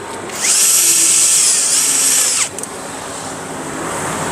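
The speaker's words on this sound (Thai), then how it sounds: "เดี๋ยวขันน็อตดูนะครับ ให้แน่ใจว่ามันได้แล้วนะครับ" Power tool tightening a nut on an aluminum-head electric fan being converted from bushings to ball bearings: a loud, close, high-pitched motor whine lasting about two seconds, then cutting off abruptly into quiet room noise.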